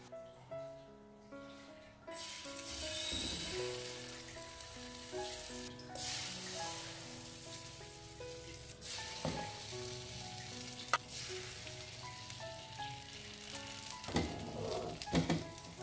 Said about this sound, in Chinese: 中小火慢煎